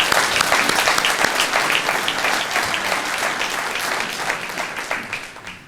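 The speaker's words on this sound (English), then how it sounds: "Give them a round of applause." An audience at a retirement ceremony gives board trustees a round of applause: dense, sustained clapping from many hands that fills the room and tapers slightly toward the end.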